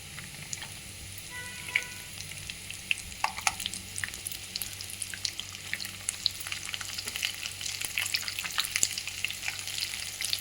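Garlic and green chillies fry in hot oil, a steady close sizzle with crackling pops and occasional stirring scrapes throughout.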